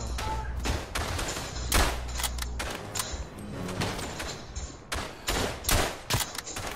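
Rifle gunfire in the First World War shooter Verdun, loud and near: irregular cracking shots, some single and some in quick clusters, overlap with heavier distant volleys.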